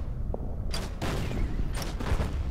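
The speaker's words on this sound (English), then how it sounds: "Mortar attack." Mortar barrage in the Order of Battle strategy game, set on Saipan: a couple of sharp explosive bursts land over a steady dull rumble, loud and fairly close, with no talking.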